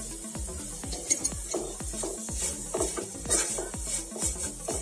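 Black cumin powder is stirred with a utensil in a pan over low heat, giving repeated scraping and clinking strokes against the metal under a soft, steady sizzle.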